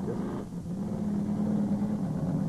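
Tractor-pull vehicle charging over a row of cars at a 1987 Winnipeg event, its engine a loud, steady, close mid-range roar with a strong low hum that holds throughout.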